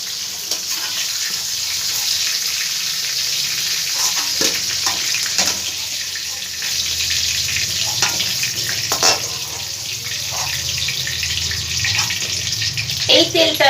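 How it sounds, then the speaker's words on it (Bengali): Pointed gourd frying in hot oil gives a steady, close sizzle that runs the whole time, with a few sharp clinks and spatters from stirring. "পটলটা আমার খুব ভালো করে ভাজা হয়ে গেছে।"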